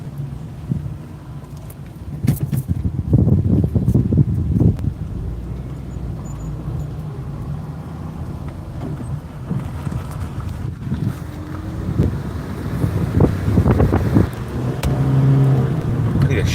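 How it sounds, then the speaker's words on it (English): Heavy gusty wind buffets the microphone during a storm chase through Virginia, surging in rough low rumbling waves with some vehicle noise underneath, loud and close throughout. "Heavy winds, heavy winds. Gusty winds, gusty winds."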